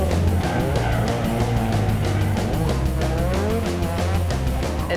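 Loud drift car engine revving hard with a rasping, fluctuating exhaust note, layered with continuous tire squeal and skidding, close and sustained throughout.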